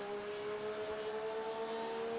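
Race cars in an iRacing GT endurance race at Silverstone, with a steady engine drone and a sustained tonal whine under a faint, continuous mechanical roar.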